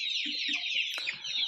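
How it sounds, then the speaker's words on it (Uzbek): Three-month-old Andijan black chicks cluck in short low bursts over a continuous, dense chorus of high peeping from many young birds nearby. "Jo'jalarimiz 3 oylik bo'ldi"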